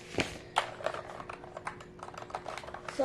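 Mechanical keys on an Apex 9 TKL keyboard clack in quick, uneven strokes, close and crisp, with a few louder hits standing out from the rapid typing.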